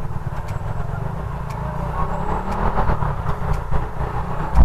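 A Yamaha NMAX scooter engine on a road trip toward Baguio hums and rumbles steadily and loudly up close, with road and wind noise mixed in and small bursts of throttle.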